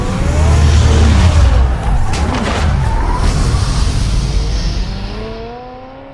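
The Batmobile in the Batman Telltale Series video game roars loudly at first, then gives gliding revving sweeps with some skidding hiss, and the sound fades out toward the end.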